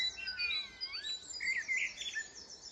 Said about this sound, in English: one of the really distinctive things about Blackbird is how it ends.